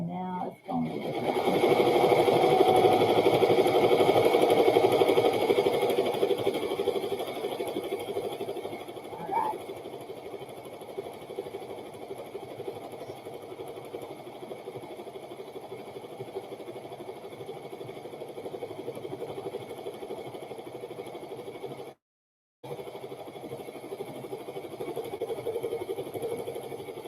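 An embroidery machine stitches a crown design in the hoop for a burp cloth, a steady close mechanical whir with a rapid needle rhythm running throughout, with one brief break near the end.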